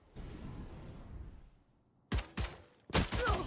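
Gunfire from the shooter game Valorant comes in three sharp, loud bursts after a quieter rumbling stretch, the last burst a rapid volley of shots.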